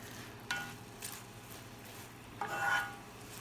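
Shredded cabbage with mixed colourful vegetables is stirred in a hot pan, soft scraping strokes and light sizzle at a quiet, close level.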